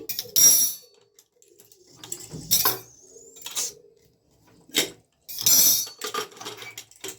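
A pressure cooker lid is worked open in a home kitchen during prawn and bottle gourd cooking, with several loud metallic clanks and scrapes separated by quiet gaps, plus a brief hissing whistle.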